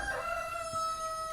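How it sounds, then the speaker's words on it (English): A rooster crows once, a clear sustained call at moderate distance that fades out, heard alone without talk. "I hope you listened to my rooster crow just a second ago."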